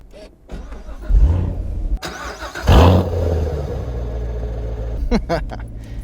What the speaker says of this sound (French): Je vais vous démarrer un peu la voiture